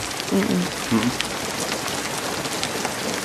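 Heavy rain during a Hollywood film's romantic scene, a loud steady hiss of drops on surfaces, with a brief voice murmuring over it at the start.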